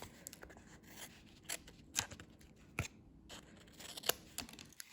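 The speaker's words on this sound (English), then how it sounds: "So I'll just chop off the extra cardstock that's hanging over the edge." Scissors snip off excess cardstock overhanging the edge of a handmade card, a series of sharp, quiet, close cuts spaced irregularly over soft background rustle.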